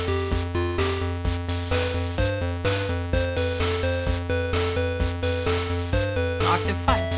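A bright chiptune melody from an LSDj tracker on a Game Boy plays up an octave, with buzzy square-wave notes stepping over a steady pulsing bass in a continuous, loud loop.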